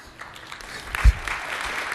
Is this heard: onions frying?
no